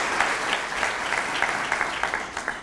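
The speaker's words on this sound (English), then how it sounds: "How about giving him a round of applause?" An audience at a school district breakfast program applauds, giving a brief, moderately loud round of clapping with scattered sharp claps standing out.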